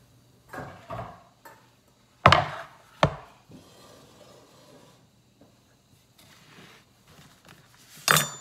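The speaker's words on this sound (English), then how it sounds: "I'm gonna go ahead and cut up the tortillas" A knife cutting tortillas into chip wedges on a board, several sharp separate chops and thuds with quiet gaps between them, close and dry, no talk.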